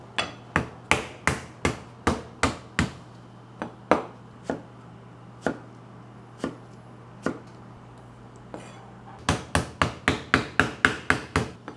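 Cucumbers are smashed for a smashed cucumber salad with sharp, close thwacks on a board. The blows come in a rapid run, thin out to a few spaced strikes, then pick up again in a quick burst over a low steady hum.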